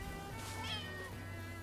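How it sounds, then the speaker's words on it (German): A single drawn-out cat meow in the video game Rise of the Ronin rises and falls over a steady low background hum, fairly quiet and with no voices. "Hier ist noch eine Katze."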